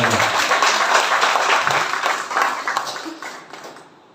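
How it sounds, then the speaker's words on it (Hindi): Audience applause at a gathering, steady dense clapping that fades out toward the end, with faint voices mixed in. "तालियां उनके लिए।"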